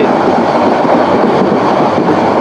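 Subarna Express train running on the rails between Chattogram and Dhaka, a steady loud rumble of wheels and carriage noise throughout, heard up close from inside the train.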